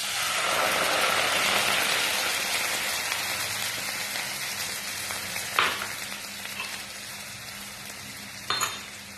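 Moong dal dropped into a hot pan for spinach soup, sizzling loudly at first and easing to a steady fry, with a couple of sharp clinks of a spoon or pan near the end.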